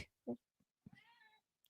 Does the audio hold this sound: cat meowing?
yes